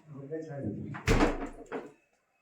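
A fridge door in a home kitchen shuts with a loud, close thud, followed by a softer knock, while someone talks before and after.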